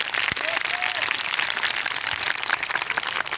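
An audience at a Christmas gathering claps in a dense, steady wave throughout, with a voice briefly audible beneath the applause.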